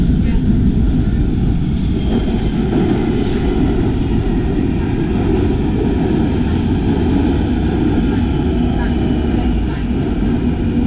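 A London Underground train pulls into the station with a loud, steady roar and a rushing gust of air, while people talk over the noise.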